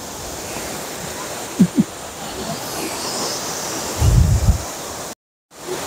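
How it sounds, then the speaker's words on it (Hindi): The Chadwick waterfall, swollen in monsoon season, gives a steady broad rush of falling water heard from a distance, with a few low thumps and wind buffeting the microphone. "तो ये था चैडविक वाटरफॉल"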